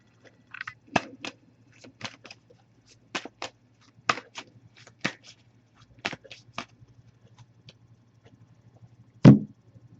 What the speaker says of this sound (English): So what I'm going to do is give this a few shuffles, and then we'll pull a card.